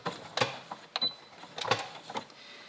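A sewing machine back stitching at the start of a seam on a sleeveless vest with a rounded collar, heard as short bursts of stitching separated by pauses, close and fairly quiet.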